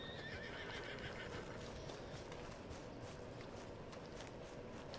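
A horse whinnies while hooves clop beneath a steady, dense wash of game ambience in Red Dead Redemption 2. The sound stays even and continuous throughout.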